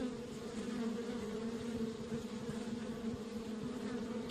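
A steady, droning buzz of bees around a hive in the Kelvin and the Infamous Machine video game, continuous and moderately loud with no pauses.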